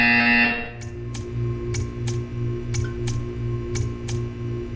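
A buzzer in the video game Portal gives a run of evenly spaced short electronic pulses, about eight in a row, over a steady humming background after a brief louder tone at the start.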